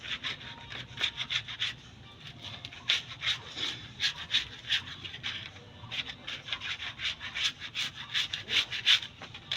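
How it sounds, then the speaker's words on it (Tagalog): Metal scraper rubbing and scraping old, aged paint off a house wall during repainting prep, a steady run of close, repeated rasping strokes in quick bursts with no talking. "Kuskusin nyo. Meron kayong palita, ganito lang mga idol."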